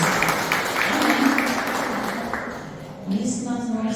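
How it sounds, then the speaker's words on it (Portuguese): Church congregation clapping together in a broad, dense wash of applause that gradually fades, overlapped by a voice speaking and a brief exclamation near the end. "Aplaude Jesus bem forte."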